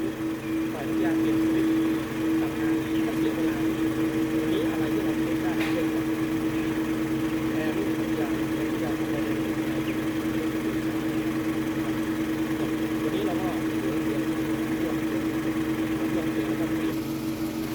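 A steady mechanical hum of a Toyota Camry's air-conditioning compressor and two electric cooling fans drones on continuously, close and even, with a constant tonal whine.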